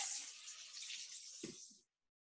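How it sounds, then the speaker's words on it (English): Running tap water splashes steadily over a hand being rinsed at a kitchen sink while baking a chocolate zucchini cake, a bright continuous hiss that stops abruptly with a small clunk near the end. "give my hand a rinse"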